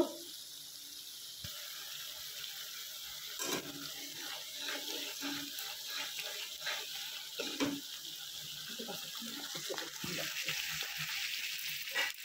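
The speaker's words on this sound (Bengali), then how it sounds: "এটা খুব একটু ঘন আছে, তাই আমি একটু ঠিক করার জন্য সামান্য একটু জল এতে অ্যাড করব।" A small amount of water is poured into a thick cooking mixture, producing a faint, close trickle with light scattered clicks and a soft sizzling hiss underneath.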